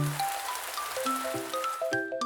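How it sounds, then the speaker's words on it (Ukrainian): A soft, steady patter of rain fills the background beneath a light, plinking tune of musical notes in a children's cartoon. "Дощ."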